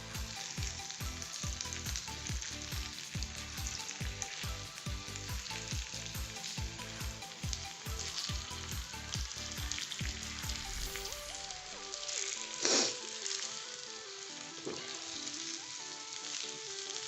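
Potatoes frying in a pan, a loud, steady sizzle with rapid rhythmic stirring strokes for about ten seconds, then the stirring stops and a softer sizzle continues alone with a brief clatter near the end.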